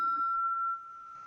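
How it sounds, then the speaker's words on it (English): A small hand bell is struck once, close and clear, and its pure ringing tone hangs steady, then dips to a softer lingering hum as it fades in a quiet room. "this is my bell"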